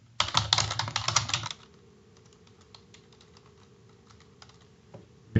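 Rapid typing on a computer keyboard, a dense burst of close, loud key clicks for about a second and a half, then a few scattered faint keystrokes over quiet room tone.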